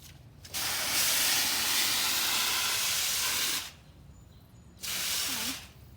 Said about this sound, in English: I am gonna like spray water so it can go all over the place